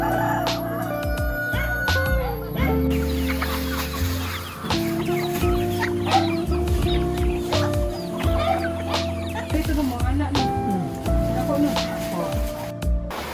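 Chickens cluck and chatter steadily nearby, under a voice speaking and soft background music.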